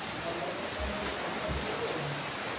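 Rain falls outdoors as a steady, faint, even hiss with no breaks, and a few soft low bumps sound beneath it.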